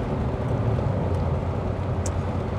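A Saab 9000 Turbo's engine drones steadily as the car pulls through third or fourth gear, a continuous low in-cabin rumble with road noise and no voices.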